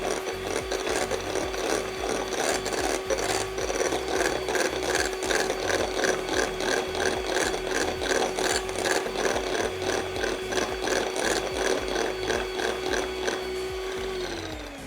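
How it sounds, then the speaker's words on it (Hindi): An electric mixer beats cream with chocolate ganache, a steady close motor whine with rattling, regular pulses throughout, winding down at the very end. "अब हम इसे दोबारा से बीट करेंगे और इसे अच्छी तरह मिक्स करेंगे।"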